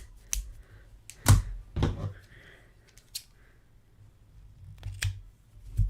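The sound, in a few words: scissors cutting crochet yarn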